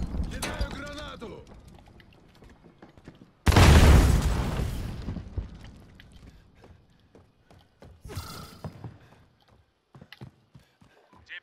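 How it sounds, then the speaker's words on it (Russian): A grenade in Call of Duty: Modern Warfare bursts with a sudden loud, deep boom that dies away over a couple of seconds. Game sounds and clatter come before and after it, with speech around it. "Кидаю гранату."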